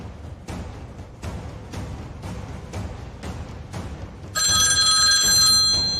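An old-style telephone bell rings in a steady series of loud, evenly spaced bursts, then a shrill electronic tone briefly takes over near the end, with no talking.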